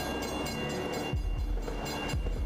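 A train rolls through a railway crossing in a Gamescom 2026 game trailer, loud and steady, with a rumbling clickety-clack of wheels and low thumps on the track joints that repeat every half second or so.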